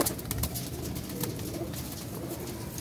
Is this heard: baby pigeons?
yes